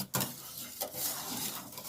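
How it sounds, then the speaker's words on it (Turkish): A spoon scrapes and stirs banana pudding around a pot, with a couple of sharper clinks against the metal and a soft continuous swishing. "Bunu güzelce karıştırdım."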